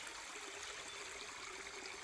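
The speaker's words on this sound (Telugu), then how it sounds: "ఊట నీళ్ళు" Spring water trickling through a forested hillside in a tribal area, a soft, faint, continuous burble and patter heard alone at a distance.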